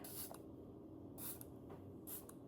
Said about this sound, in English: So I'm going to see if I can very deliberately and slowly get it to spray today.